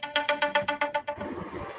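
A phone ringtone sounds as a run of eight quick, evenly spaced bright electronic tones close by, then gives way to a softer, muffled rustling tail.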